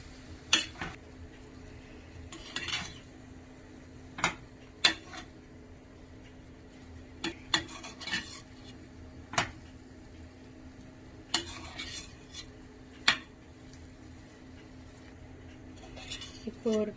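Utensil scraping and clinking against a pan while vegetable pasta is mixed in Indian style, with irregular sharp taps and scrapes over a steady low hum, fairly quiet.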